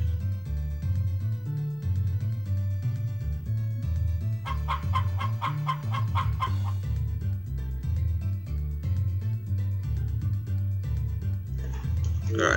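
Chickens clucking on a farm in the video game Harvest Moon, with repeated clucks and squawks mixed into a loud, steady background music track that runs throughout.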